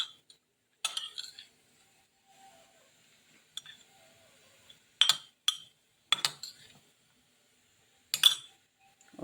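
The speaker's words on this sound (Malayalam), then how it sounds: "ഇനി തേങ്ങയും ക്യാരറ്റും കൂടെ നമുക്ക് മിക്സ് ചെയ്യാം." Grated coconut and carrot are mixed into puttu flour in a bowl, producing sparse, close clinks and scrapes of a spoon against the dish separated by near silence.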